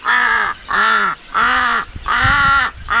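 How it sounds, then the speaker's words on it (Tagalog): A crow caws four times in a steady rhythm, each call harsh and drawn out, loud and close with short pauses between. "Maingay yung alaga nating uwak."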